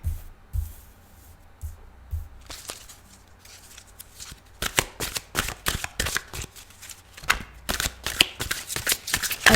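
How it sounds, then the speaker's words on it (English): A Psychic Tarot Oracle deck of cards is shuffled by hand, starting with soft, sparse riffles and thumps, then building into dense bursts of crisp card flutters and snaps near the microphone. "we need to continue to shuffle"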